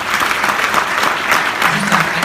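Loud, sustained audience applause at an innovation prize ceremony, many hands clapping close and evenly throughout with a faint voice briefly emerging beneath it near the end.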